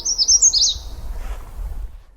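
Magnolia Warbler song: a quick, bright series of high whistled notes in the first half, fairly close and clear over a faint low background rumble, then fading to quiet.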